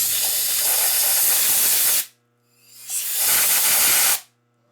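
Compressed air blasts loudly off parts from a failed 1989 Harley FXR 89ci S&S Evo stroker engine, two long steady hissing bursts with a short quiet gap between them.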